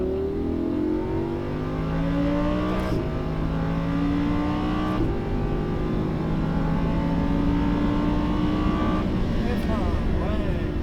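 A Lamborghini Huracan powers down a straight on a race track at Fay-de-Bretagne, its loud engine rising in pitch through a sequence of upshifts with short breaks at each change, close and sustained while someone talks over it.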